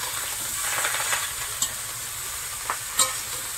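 Cut bottle gourd stems, greens and potatoes frying in hot oil with garlic and cumin, giving a steady close sizzle and hiss with a few soft stirring knocks near the end.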